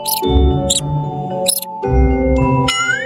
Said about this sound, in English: M is for mouse.